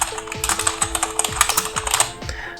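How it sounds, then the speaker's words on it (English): Steady typing on an Ant Esports KM580 keyboard, with close, crisp key clicks in a quick irregular rhythm, heard alone with a faint background hum. "Just hear this. I'm typing right now."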